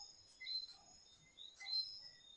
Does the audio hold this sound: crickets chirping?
yes